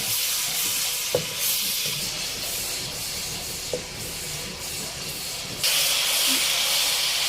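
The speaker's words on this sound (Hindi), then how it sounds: "और लहसुन अदरक के पेस्ट को हम इस ऑयल के अंदर भूनेंगे।" Garlic ginger paste frying in hot oil for a chana dal karahi, a steady loud hiss and sizzle throughout with a couple of small clicks and a brighter surge of sizzling near the end; no talking.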